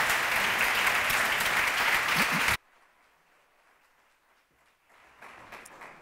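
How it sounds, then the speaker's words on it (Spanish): Loud, dense audience applause for guests at an agri-food and export markets forum, sustained for a few seconds and then cut off abruptly, leaving a quiet room with faint stirring. "se han merecido un aplauso a nuestros invitados hoy"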